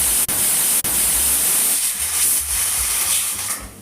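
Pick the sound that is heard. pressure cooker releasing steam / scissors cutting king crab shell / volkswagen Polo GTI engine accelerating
pressure cooker releasing steam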